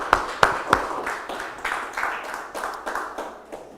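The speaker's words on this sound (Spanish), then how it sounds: "Un aplauso al Señor." Church congregation at an evening Bible study claps for the Lord, several loud separate claps at first, then a softer, rhythmic patter of hands fading out in a reverberant room.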